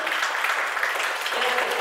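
An audience at a photo exhibition opening claps steadily for an award, dense even applause filling the room at a constant level.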